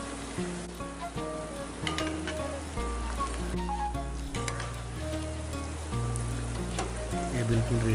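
Potato laccha pakora fries in hot oil with a steady, even sizzle that continues throughout, fairly close, under background music.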